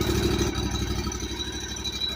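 An Exmark Turf Tracer 36-inch walk-behind mower with custom electric start idles steadily close by, a low, even engine drone with a faint pulsing rhythm and no talk.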